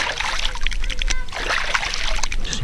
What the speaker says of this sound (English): I'm now going to wash my hands in the dirty water.